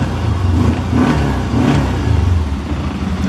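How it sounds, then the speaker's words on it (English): A 2017 Arctic Cat 700 HDX Crew side-by-side engine runs steadily close by, a low rumbling idle with slight revving swells, smooth and continuous with no talking. "I'm going to go ahead and crank this one up. Pretty quiet, nice and smooth."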